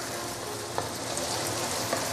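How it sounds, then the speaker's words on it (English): Zha jiang mian sauce sautéing slowly over a medium-low fire, a dense, even crackling sizzle that holds steady and close, with a couple of faint pops. "slowly sauteing under medium-low fire"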